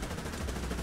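Rapid, continuous fire from the Marder 1A3's autocannon in the War Thunder tank game, a dense, loud burst of shots packed tightly together with no pause.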